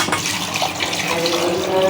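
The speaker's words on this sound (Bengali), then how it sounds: "পানিটা দিয়ে দিব এখন," Water pours steadily into a pressure cooker of chana dal, a continuous splashing rush with a rising tone as the vessel fills, close and fairly loud.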